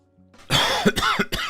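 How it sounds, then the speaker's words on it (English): A close, harsh burst of coughing: one rough throat-clearing onset followed by three sharp coughs in quick succession. "Sorry for coughing."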